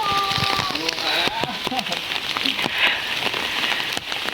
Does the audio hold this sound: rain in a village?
yes